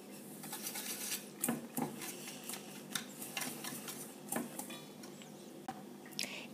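Eggs are mixed into apple cake batter in a bowl, giving soft wet squishes and repeated light clinks of a utensil against the dish in an irregular rhythm, close and fairly quiet.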